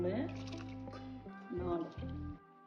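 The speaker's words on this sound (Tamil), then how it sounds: "இப்போ 4 தண்ணி ஊற்றியாச்சு." Water gurgles and fills a cooking pot while chicken biryani is prepared with seeraga samba rice, heard close under a voice talking nearby.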